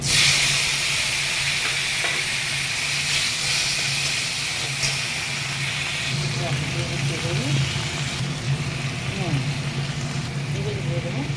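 Nigella seeds tempering in hot oil in a pan, a steady loud sizzle and hiss that holds throughout, while a person talks over the frying.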